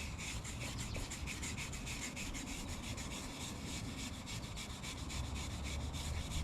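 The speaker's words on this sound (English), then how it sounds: "Let's scrub that." Hand scrubbing of a machine tool during restoration with a homemade stain remover: a continuous, rhythmic scratchy rubbing with quick back-and-forth strokes, close up and fairly quiet, with no voices.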